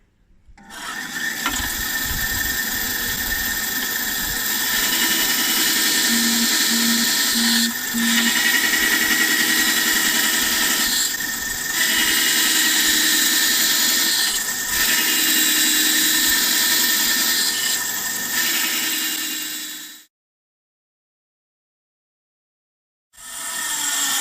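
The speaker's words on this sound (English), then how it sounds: "So I've got the bandsaw eye protection on. It's going to give it a little bit of a trim, rough cut." A bandsaw rough-cuts a hunting catapult with a loud, steady whine that runs for about twenty seconds with slight dips as it bites, then stops abruptly; after a short silence the saw starts up again.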